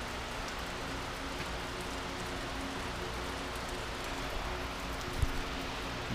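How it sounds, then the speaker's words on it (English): Steady Florida rain falls as a constant, even hiss of drops on surfaces, moderately soft and unbroken, with no voices. "Beautiful Florida rain."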